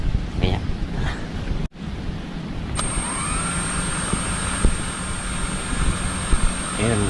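Brushed motors and propellers of a damaged drone with one of four motors not working spin up into a steady, close whirring with a high whine that holds after a brief cut.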